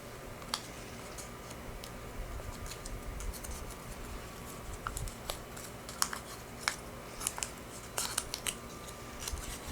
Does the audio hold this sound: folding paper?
yes